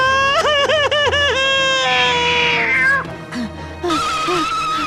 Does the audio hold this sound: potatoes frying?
no